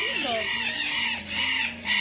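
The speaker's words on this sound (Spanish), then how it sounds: "Bueno, pollito es." A newborn chick about a day and a half old peeps in short high chirps, with a rising call and fluttering clucks close by at a bird rescue setting with parrots.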